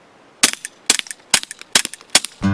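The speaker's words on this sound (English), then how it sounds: "So let's see how this little suppressor does with M&P 22." Six suppressed .22 shots from an M&P 22 pistol fitted with an Octane 9 HD suppressor, each a sharp, fairly quiet crack with a short metallic tail, evenly spaced about every half second, followed by a brief rumble.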